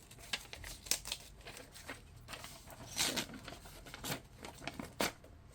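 Very thin old book paper crinkles and rustles up close, with soft irregular crackles and occasional sharper crumpling bursts, quiet and unaccompanied.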